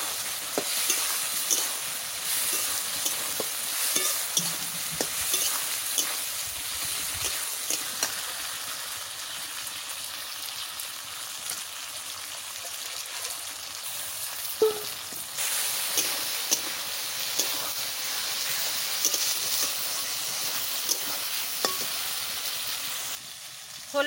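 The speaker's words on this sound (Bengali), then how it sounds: "এর সাথে আমি আলু দিয়ে দিচ্ছি, একসাথে কষাই দেবো" Crab and potato pieces stir-fry together in a masala pan, a continuous close hiss and sizzle with occasional clinks and scrapes of stirring, and no speech.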